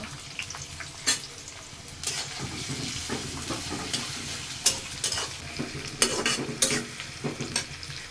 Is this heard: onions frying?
yes